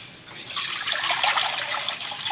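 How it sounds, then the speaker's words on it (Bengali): Water pours steadily into a wok on a kitchen stove, a continuous splashing stream that swells slightly and holds for a couple of seconds. "কড়াইতে দিয়ে দেবো পানি"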